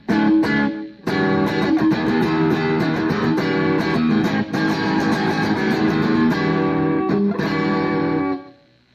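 A clean-toned electric guitar, a Cordovesz HSS Strat-style build on its middle single-coil pickup, playing a loud close strummed and picked chordal passage with quacky sustained chords and brief pauses, ending in a fading ring-out.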